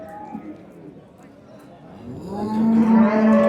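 A dairy cow at a cattle market in Qarshi, Kashkadarya, gives a loud, drawn-out low moo that builds in the second half, while market sounds and voices stay quieter in the background.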